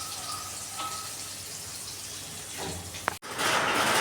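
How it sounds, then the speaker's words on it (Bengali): Heavy rain falling outside, a steady wash of hiss through the whole stretch with a brief click and dropout near the end before it swells a little louder. "একটু নয়েজটা আসবে কারণ বাইরে প্রচণ্ড জোরে বৃষ্টি নেমেছে"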